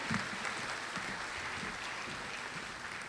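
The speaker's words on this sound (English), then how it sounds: "Another round of applause for the award winners of the Simón Bolívar Award." Applause at an honors recognition ceremony for award winners, a broad continuous patter of clapping from a large audience, even in level and sustained throughout.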